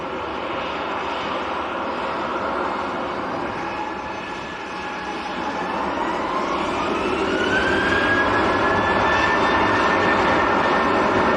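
A TUI airliner is lined up at Manchester Airport, its engines producing a steady, loud whine and rumble that swells slightly toward the end, with a rising tonal whistle layered over the drone.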